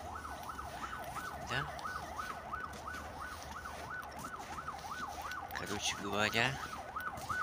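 An ambulance siren wails in a steady up-and-down cycle at moderate distance while people talk nearby, with brief louder voices toward the end.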